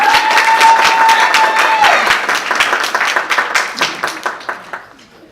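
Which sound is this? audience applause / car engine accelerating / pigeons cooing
audience applause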